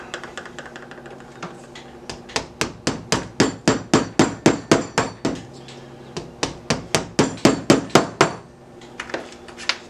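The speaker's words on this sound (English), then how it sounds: "So you'll see that the smaller chisel will actually take out bigger chunks." A hammer strikes a chisel carving into plaster, a rapid run of sharp, ringing blows in quick bursts with brief pauses between series, close and clear.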